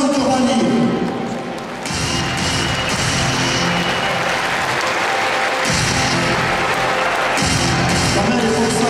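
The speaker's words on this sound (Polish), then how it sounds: "Wszystkie ręce klaszczą, kochani!" A volleyball arena crowd at a PlusLiga season-opening team presentation in Bydgoszcz claps steadily and loudly for the whole stretch, a dense roar of applause with cheering, while an announcer's voice carries over it.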